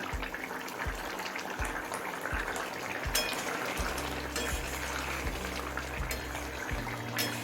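Rohu fish curry with fried lentil dumplings simmers steadily over a medium flame, giving a continuous bubbling, sizzling hiss with occasional soft knocks and clicks.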